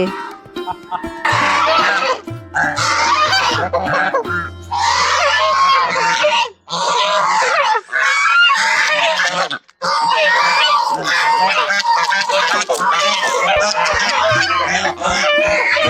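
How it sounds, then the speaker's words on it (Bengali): Loud, busy quacking and squawking from several ducks being fed mung lentils in a park, harsh and overlapping, with only brief pauses over about sixteen seconds. "হাঁসকে একটু মুগ ডাল খাওয়ানোর চেষ্টা হবে দেখি খাই কি না"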